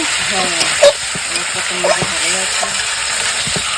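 Potatoes hit hot oil and are stirred in a pan, giving a loud, steady sizzle broken by a few close clinks and scrapes of the spoon.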